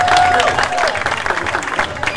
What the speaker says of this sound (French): Est-ce qu'on peut applaudir pour les 5 finalistes de Yaoundé?